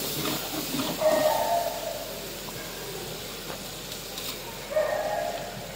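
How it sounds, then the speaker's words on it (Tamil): Lentils and onions sauté in a pan for kichili samba rice upma, giving a steady close hiss with faint scraping touches throughout and no speech. "இந்த பருப்பு வெங்காயம்லாம் வந்து வதங்கிடுச்சு."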